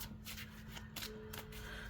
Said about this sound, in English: I do like to shuffle these cards